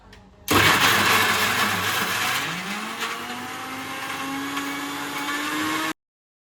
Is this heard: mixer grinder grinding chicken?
yes